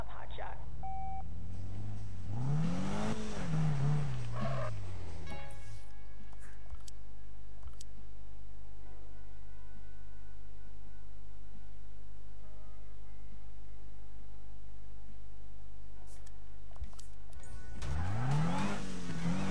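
A car drifting in the video game Need for Speed, its engine whining up and down in two sweeping revs near the start and end, with steady game noise between.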